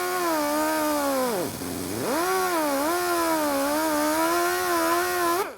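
A power tool cuts an automotive sheet metal patch panel with a loud, steady, close whine whose pitch dips sharply once as the blade bogs under load and then recovers, running alone and without a break before cutting off.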